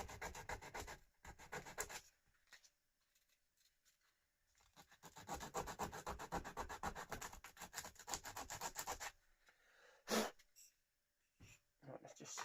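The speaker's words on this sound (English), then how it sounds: "we'll just start sanding that down now" Close, rhythmic rasping of sandpaper rubbed by hand back and forth on wood in steady strokes, pausing briefly between sanding bursts.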